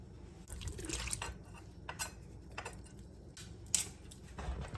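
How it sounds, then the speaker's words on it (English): Heavy syrup draining from canned fruit cocktail, faint liquid trickles and drips with a few small clinks of the can, close and quiet, with no voices. "I get mine in heavy syrup, but I'm going to drain it too."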